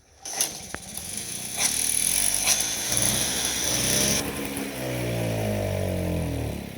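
A small two-stroke engine is cranked with a few sharp pulls, then catches and runs with a steady, buzzing drone that fades slightly toward the end.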